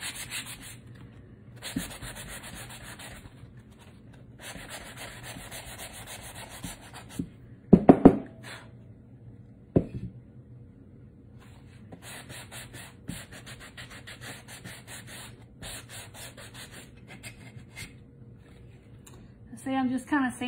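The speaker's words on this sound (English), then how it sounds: "I'm just kind of sanding a little off." Intermittent scratchy rubbing of sandpaper on a painted wooden cutting board in short bursts, close up, with a couple of louder knocks and pauses between strokes.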